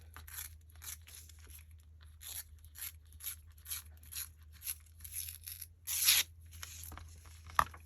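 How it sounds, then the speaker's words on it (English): Antique book page paper being ripped by hand, a faint close series of short dry tearing rasps in an uneven rhythm, ending with a louder longer rip over a low steady hum. "let's see if we can rip this off"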